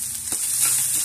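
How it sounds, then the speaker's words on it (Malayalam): Grated coconut dry-roasting in a pan for erissery, an Onam dish, gives a brief, steady close sizzle with a soft scrape partway through. "ഈ തേങ്ങ നന്നായിട്ട് വറുത്തെടുക്കണം"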